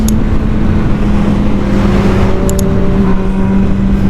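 An MV Agusta Brutale 1000 motorcycle engine pulls hard under acceleration, a loud continuous drone with rising tone, heard up close over wind rush.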